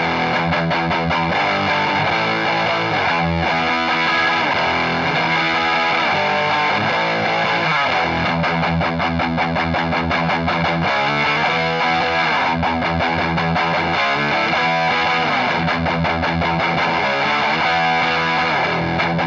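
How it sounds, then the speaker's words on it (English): A Westcreek Explorer-style electric guitar, an inexpensive copy of the Gibson Explorer, played on its bridge pickup with the distortion turned up, chugging loud, dense, continuous palm-muted riffs with no talking over them. "let's turn the distortion up just a little bit, and I'll chug as the best I can"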